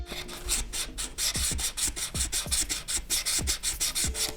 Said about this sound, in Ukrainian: мені не дуже подобається металевий звук, коли його дістаєш або ховаєш